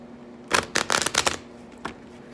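Someone shuffles a Light Seers oracle card deck by hand, giving several quick, crisp riffling bursts close up. After a short pause comes one last softer flick, against a quiet background.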